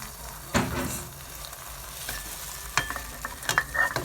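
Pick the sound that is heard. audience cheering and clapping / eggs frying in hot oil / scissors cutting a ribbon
eggs frying in hot oil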